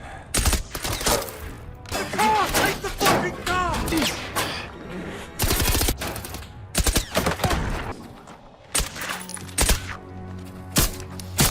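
Gunfire rips through a film firefight as a man shoots wildly in all directions, with dense bursts of rapid shots and heavy thuds alternating with short pauses, under a narrator's voice.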